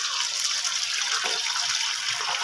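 Chicken liver half-frying on a flat tawa over a medium flame gives a loud, steady, close sizzling hiss that runs unbroken and alone throughout.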